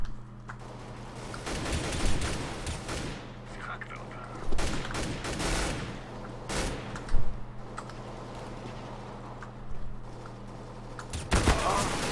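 Counter-Strike: Global Offensive gunfire, revolver shots firing in scattered sharp bursts over a steady low hum, with keyboard clicks and a few brief spoken moments.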